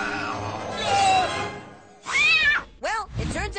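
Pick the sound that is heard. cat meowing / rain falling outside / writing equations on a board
cat meowing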